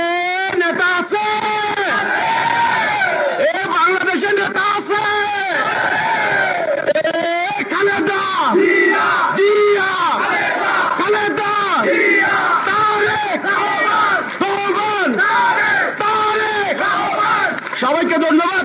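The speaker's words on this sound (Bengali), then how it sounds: "শুধু আমি আমার সাথে আপনারা স্লোগান ধরবেন" A crowd of political supporters at an outdoor youth-wing rally in Shibganj, Bogura, chants slogans loudly in rhythmic call-and-response with a leader's shouted lines, the massed voices sustained and dense throughout.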